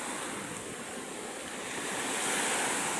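Loud, continuous roar of ocean surf crashing onshore, with wind buffeting the microphone and no voices.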